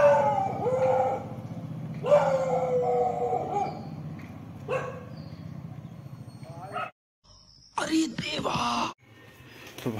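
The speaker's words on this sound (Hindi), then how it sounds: "ये बड़े कुत्ते वो वाले यही हैं वो कुत्ते।" Large dogs howling and barking outdoors on a cold morning, drawn-out wavering howls in several bursts with sharper barks near the end, fairly close and loud.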